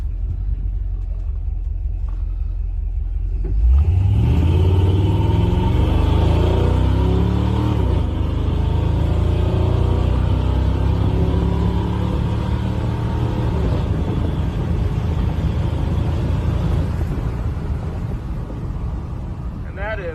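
A 1996 Ford F150 pickup with a swapped Ford 351 V8 starts up into a deep, loud rumble and pulls through the gears, its engine note rising and falling with each shift, with someone talking over part of it.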